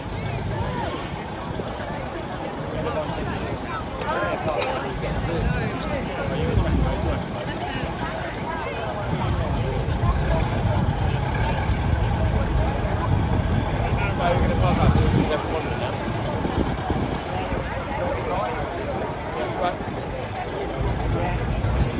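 Military vehicles rumble and idle past at an outdoor military show, a continuous low engine drone swelling midway, with someone talking and crowd chatter over it.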